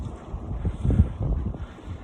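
A short stretch of gusting wind at Lake Livingston rushing past the microphone at moderate loudness, with no voices.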